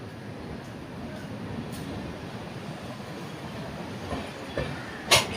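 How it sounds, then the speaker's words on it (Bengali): A train pulls into platform 3 at Santragachi station on the Tamralipta SF Express, giving a steady low rumble and rolling wheel noise with faint clatter and a sharper knock near the end. "আর আমাদের ট্রেন সাঁতরাগাছি স্টেশনে ঢুকছে 3 নম্বর প্ল্যাটফর্মে"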